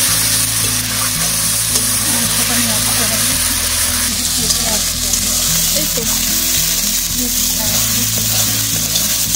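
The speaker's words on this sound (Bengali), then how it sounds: "ভালো করে মশলাটা কষিয়ে নিচ্ছে" Onion paste and spices fry steadily in a pan for a chicken curry, a continuous close sizzle with occasional stirring scrapes beneath a low, steady hum.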